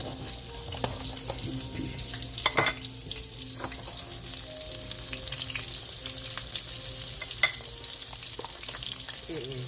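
Flounder fillets fry in a pan with a constant close sizzle, punctuated by occasional sharper pops and clicks as the fish cooks, with no talking.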